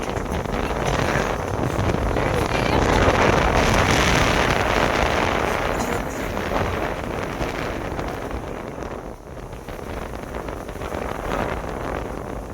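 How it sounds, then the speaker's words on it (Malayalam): Strong wind sweeps across Dal Lake during a shikara boat ride, a loud continuous roar buffeting the microphone that swells early on and eases slightly later, with water movement beneath it. "നല്ല കാറ്റുണ്ടാ."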